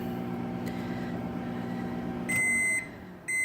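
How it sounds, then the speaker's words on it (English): A microwave oven heating rice hums steadily, then its high electronic beep sounds, cuts off, and starts again near the end. "And that's the rice in the microwave."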